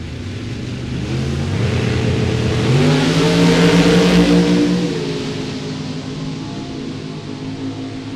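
A 1969 Camaro drag race car, an Inco clone, launches and accelerates at a drag strip, its engine note rising loudly then fading into the distance with no talk over it.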